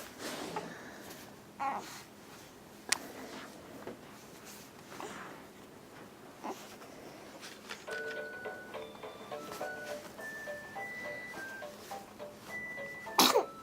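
A few small, sharp sneezes from a baby, quiet and close, with short soft squeaks and chirpy sounds in between.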